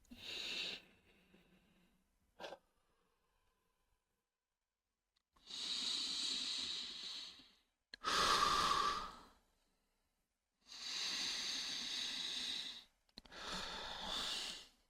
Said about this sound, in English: Okay, try to control your breath. Like this.